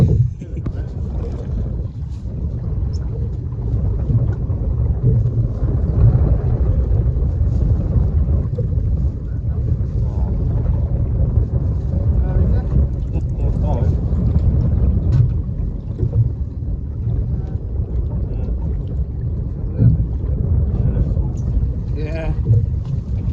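Cold 10 to 12 mph northerly wind buffeting a fishing boat on a UK winter sea, a continuous low rushing roar with gusty surges and microphone wind noise throughout.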